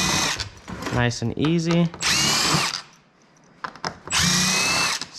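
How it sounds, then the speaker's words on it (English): An impact driver spins out the third brake light screws on a 2022 Ford F-350 King Ranch, giving two loud whirring bursts with a quiet gap between, while someone speaks briefly. "I'm gonna throw it on the impact and get this third brake light all taken off"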